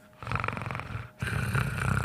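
A voice imitates heavy snoring, with two rough, rattling inhaled snores separated by a short gap, loud and close.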